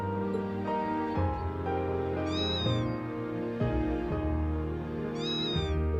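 A cat in Trails of Cold Steel III gives two clear, drawn-out meows a few seconds apart, set over steady background game music.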